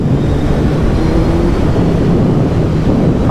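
A 2024 Honda Hayabusa motorcycle engine drones steadily and loudly, its low hum blended into constant rushing wind noise throughout.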